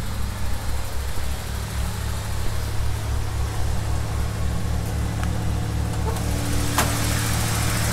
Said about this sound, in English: Starts right up when it's cold though